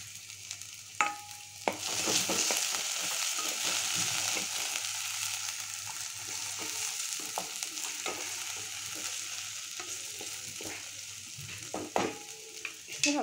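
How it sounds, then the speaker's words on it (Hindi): Chicken and capsicum stirred and fried in a pan, a soft continuous sizzle broken by scattered scraping and clacking of a spoon against the pan. "अब इसको मिक्स कर लेती हूँ।"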